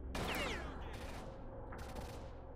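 Gunfire from a weapon in the video game STALKER: a loud burst of rapid shots, a brief pause, then a second burst, ringing close and sharp.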